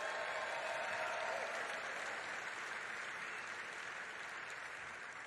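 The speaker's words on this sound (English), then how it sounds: "another round of applause for Ray Curry" Sustained applause from a large audience at an event in Detroit on electric vehicle manufacturing, steady and dense throughout, tapering slightly toward the end with no speech over it.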